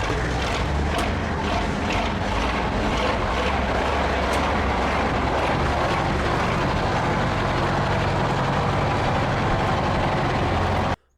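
A huge European truck at a German tractor and truck meet runs its engine, a loud, steady, deep rumble that continues throughout and then cuts off abruptly at the end.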